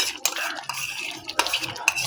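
Yogurt being stirred into mutton in a pot for biryani, with a metal spoon scraping and clanking against the pot in several close, loud strokes and a soft sizzle beneath.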